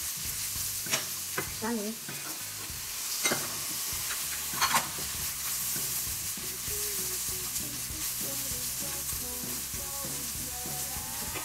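Mushrooms and dried shrimp sizzle in a pan while a utensil stirs them, with scattered scraping clicks over a steady frying hiss, close and moderately quiet; a voice says a word briefly.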